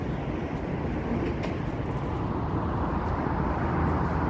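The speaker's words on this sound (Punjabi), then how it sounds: "ਟ੍ਰੇਨ ਆ ਗਈ ਵੇਖੋ ਜੀ ਮੈਟਰੋ ਵੀ ਚੱਲ ਰਹੀ ਸੀ" A train rumbles steadily near Sydney Harbour Bridge, a broad continuous roar of wheels and motion holding fairly loud and close for the whole stretch.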